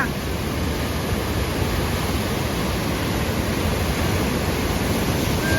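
Floodwater after heavy rain rushes past in a loud, constant roar that fills the whole stretch without pause, close and dense, with no voices on top.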